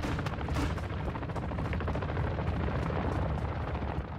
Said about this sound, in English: I hear a shot